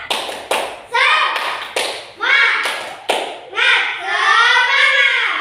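A class of children doing the rhythmic Indonesian 'tepuk semangat' clap in a classroom: sharp hand claps land in a steady pattern, about six in five seconds, alternating with loud chanted children's voices.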